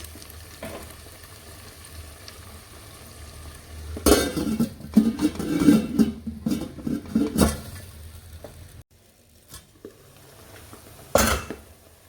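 Okra stew ingredients cooking in a pot give a low, steady simmer, broken by a few seconds of loud stirring and clattering against the pot, then a quieter stretch and one final sharp clank.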